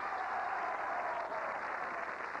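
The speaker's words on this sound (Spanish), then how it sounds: "Aplausos para él." An audience claps in steady, dense applause at a 1986 marímbula performance in Bogotá, a continuous wash of hand claps throughout.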